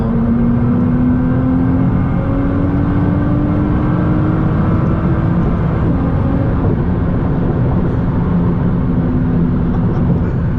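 Nissan GTR Nismo accelerating hard on a night cruise, a steady loud engine roar with a rising tone as the turbos build, heard from inside the car with no talking.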